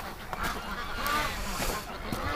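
Ducks and geese honk and quack in a chorus at a backyard poultry setup, a steady nearby flock with a few louder calls rising over general outdoor noise.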